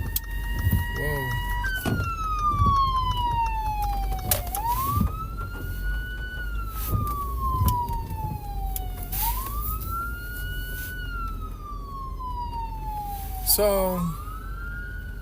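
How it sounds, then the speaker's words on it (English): An ambulance siren wails loud and close, its pitch sweeping in long rising and falling arcs over steady traffic rumble, while someone talks over it. "The ambulance is behind me."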